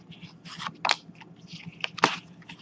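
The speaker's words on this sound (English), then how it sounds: "And let's take a look at how they shuffle." Mucha tarot cards riffled and shuffled by hand, giving quiet bursts of papery flutter and snapping card edges at an uneven rhythm, close up with no talking.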